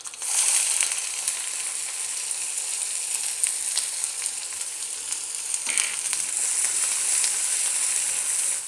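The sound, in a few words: onion frying in oil with mustard seeds and dal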